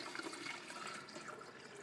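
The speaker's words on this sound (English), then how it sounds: "Right now we just added some water all the way, 3 liters of capacity for water in this little tank." Water pours steadily into the top-fill tank of a GoveeLife smart humidifier, a continuous soft rushing and splashing of liquid filling the small 3-liter reservoir, close and fairly quiet, with no talking.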